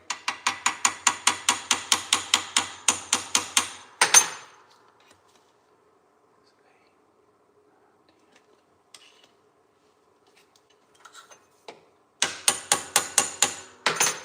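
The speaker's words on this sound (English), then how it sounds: "So we gotta give it a little tappy tap." Hammer tapping on a hydraulic solenoid rack for a 1984 Cutlass lowrider: a fast run of about fifteen sharp metallic taps, then near silence with a few faint clicks, then another quick burst of taps.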